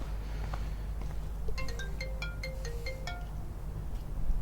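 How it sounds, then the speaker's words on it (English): A mobile phone ringtone plays a short melodic sequence of bright tones near the middle, over a low steady hum of game audio in the background. "that was my phone going off"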